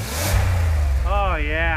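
A GMC Duramax diesel truck engine revs steadily and loudly up close, its pitch rising and falling near the end, while someone talks over it.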